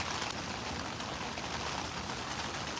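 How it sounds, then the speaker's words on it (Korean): Steady rain patters densely on a tent nearby, a constant soft hiss of drops with no voices or other sounds. "진짜 빗소리 너무 좋네요"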